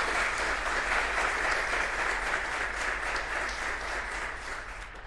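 Sustained audience applause at the opening of a climate-change panel discussion, a dense steady wash of many hands clapping that fades slightly toward the end, with no speech over it.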